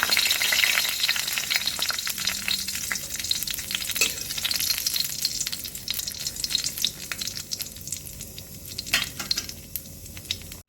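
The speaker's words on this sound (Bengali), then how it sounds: "প্রথমে আমি শুকনো লঙ্কাগুলোকে ভেজে নেব" Dried red chillies frying in hot oil in a wok, a loud continuous crackling sizzle with scattered small pops and no voices.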